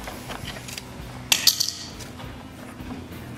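A wrench loosens the oil drain fitting on a John Deere mower, giving a quick cluster of sharp metallic clicks and clinks midway through, set against a low steady background hum.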